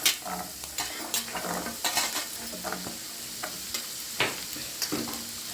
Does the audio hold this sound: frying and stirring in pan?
yes